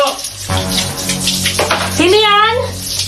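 Shower water runs steadily while someone bathes, a bright continuous spray that plays under a person talking loudly nearby.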